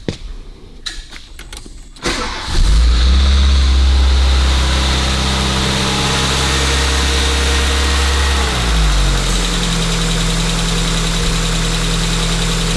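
After a couple of seconds of clicks and fumbling, a carbureted 1986 Volkswagen Scirocco Mark II engine, with a drained carburetor and running on choke, cranks and catches, then settles into a loud, steady, slightly uneven idle that shifts pitch late on.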